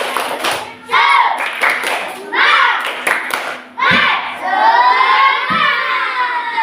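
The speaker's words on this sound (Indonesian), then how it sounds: "coba tepuk semangat" Fifth-grade schoolchildren in a classroom clap together in a rhythmic clapping chant, with bursts of claps mixed with loud children's voices shouting and chanting close by.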